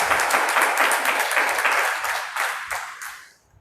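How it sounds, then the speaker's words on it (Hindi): A congregation claps together in praise at a Hindi-language church service, a dense, steady burst of many hands that carries on for a few seconds before tapering off into quiet. "खुदा के ताली बजा के महिमा करे।"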